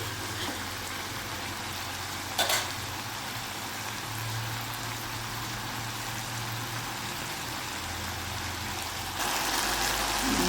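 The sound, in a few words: vegetables sizzling in a pan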